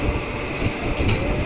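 At Kosamba Junction at night, a superfast express rolls past with a continuous loud rumbling roar and faint rhythmic clicks of wheels over rail joints.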